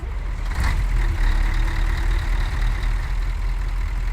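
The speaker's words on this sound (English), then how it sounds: "I will start up the truck for you so you guys can hear it." A stock Scania truck in Euro Truck Simulator 2 idles with a steady, deep engine rumble after a brief start-up surge, with a short hiss of air near the start and no voices.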